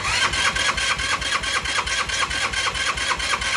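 A motorcycle engine with a freshly cleaned carburetor being cranked in repeated rapid pulses, a steady mechanical churning that never catches into a running idle, fairly loud and close.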